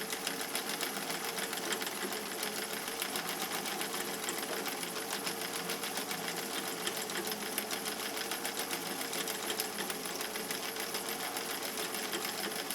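A sewing machine stitches fabric in a long, steady, fairly quiet run, its rapid needle chatter unbroken and heard alone.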